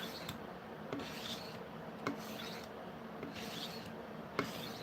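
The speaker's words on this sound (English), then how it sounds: "I'm just giving it a little bit of a maintenance sharpen on them" Blades being sharpened with back-and-forth strokes for routine maintenance, a steady raspy rubbing with light periodic scrapes about once a second, close and moderately quiet, no voices.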